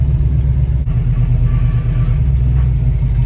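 A Chevy 440ci V8 car engine with an exhaust leak rumbles steadily with a deep, throaty idle and a faint ticking puff layered in the exhaust note, close by.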